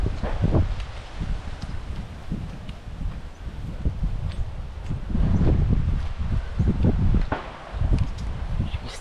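Breeze blowing through leaves in the woods on a walk, with steady rustling and gusty wind swells close to the microphone, plus some soft footstep-like thumps and no talking.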